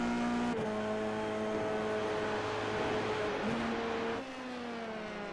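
Formula 3 race car in a sim racing game at Brands Hatch, a loud continuous high-revving engine whine with sharp gear-shift steps, holding pitch and then dropping briefly as it shifts, heard alone without talk.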